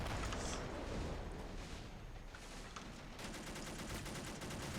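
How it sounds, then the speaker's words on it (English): Field howitzer artillery pounds away in a tournament match of a World War II tactical shooter game, a dense continuous barrage of booming shots and gunfire that thickens toward the end. "Field howitzer just going crazy."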